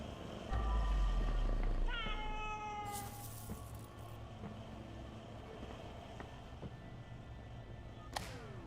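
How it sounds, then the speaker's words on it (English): A fluffy cat in a video game gives a few short meows over a soft ambient backdrop, with a faint chime and a brief clatter between them. "That's a pretty fluffy cat."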